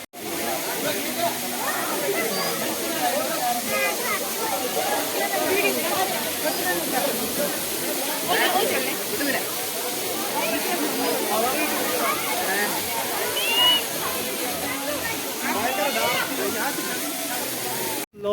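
Pangsu waterfall near McLeod Ganj, Dharamshala, sends down a continuous, loud, broadband roar of rushing water that fills the whole stretch, with voices mixed faintly into it.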